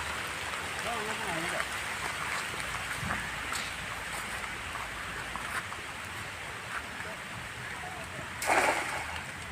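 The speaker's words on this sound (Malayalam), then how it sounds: "ഓ അടിപൊളി മഴയാണല്ലോ വീഴുന്നു" Steady rain falls outdoors during an evening trip to cast a fishing net, a soft continuous hiss with a brief louder burst near the end, while people talk over it.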